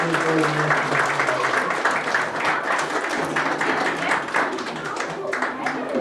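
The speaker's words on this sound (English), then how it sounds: "Give them a great big round of applause and go back to your seats." Audience applause for a group of scouts after a magic trick at a scout pack show, a dense steady clapping that carries through the whole stretch with a little chatter mixed in.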